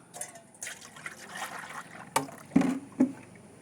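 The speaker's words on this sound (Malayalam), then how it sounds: "അപ്പോൾ അത് നമുക്ക് ഈ ഒരു പാത്രത്തിലേക്ക് ആക്കിയിട്ട് നമുക്കൊന്ന് ഒഴിച്ച് കൊടുക്കാം" Ash-based potash liquid fertilizer is poured into a container, with a faint trickling flow followed by a few louder splashes and sloshes, all close by.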